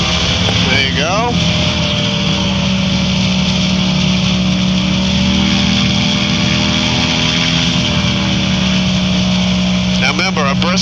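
A Challenger II light aircraft engine drones loudly and steadily while slowly accelerating, a constant buzzing hum that shifts gradually in pitch, with people talking over it near the start and end.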